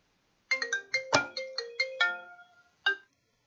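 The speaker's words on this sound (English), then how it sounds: "And now I gotta answer the phone." A cell phone, an iPhone in a repair shop, rings with a bright, chiming melodic tone: a quick run of notes, then a longer held note, a pause and one more chime, with no other sound.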